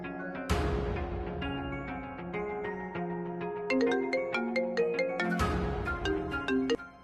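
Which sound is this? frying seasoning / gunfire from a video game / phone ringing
phone ringing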